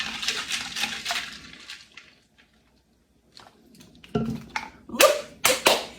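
Protein coffee being stirred in a cup, a few wet sloshing clinks at first, a quiet pause, then sharper spoon-against-cup taps and splashes close by.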